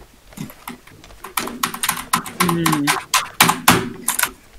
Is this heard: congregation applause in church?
no